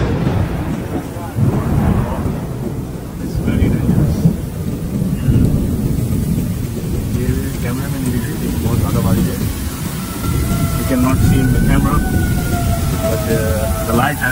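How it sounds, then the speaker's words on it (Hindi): Heavy stormy rain roars continuously with low rumbling thunder at a gas station, a dense stormy wash throughout, and a faint tone wavering in later on. "यहाँ पे ये देखिए कि कितनी तेज तूफानी बारिश है"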